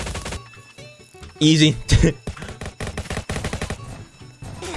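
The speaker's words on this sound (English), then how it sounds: "Let's get our plasma pistol out ready and go." A plasma pistol in Roblox Jailbreak fires in a few sharp bursts, mixed with game music and a voice talking over the shots.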